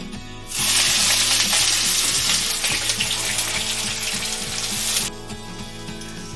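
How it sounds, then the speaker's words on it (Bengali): Onions for biryani frying in oil over a low flame, a steady loud sizzle that starts abruptly, holds for several seconds with faint stirring clinks and a low kitchen hum beneath, then cuts back to a quieter background. "এখানে হালকা ফ্লেমে আমি বেরেস্তাটা ভেজে নিচ্ছি, একটু লাল লাল মতন ভাজা হবে"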